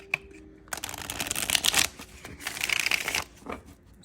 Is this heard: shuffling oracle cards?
yes